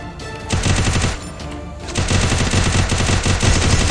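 Rapid automatic gunfire from a mobile shooting game, loud and close, with a short burst, a brief pause, then a longer sustained volley.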